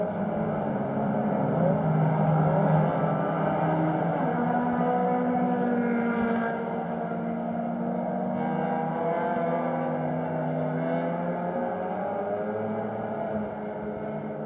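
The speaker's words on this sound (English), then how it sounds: "Lots of cars coming into the pits now" Several race cars at a Malaysia Championship Series round rumble into the pits, their engines blending into a steady, layered drone with overlapping revs and passes and no voices.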